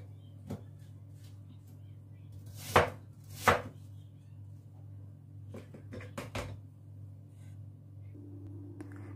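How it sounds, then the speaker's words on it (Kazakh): An apple is chopped with a knife, with two loud, sharp cuts close together followed by several quieter, scattered chops over a low, steady background hum. "Мына экинчи алманы дагы турап койдум."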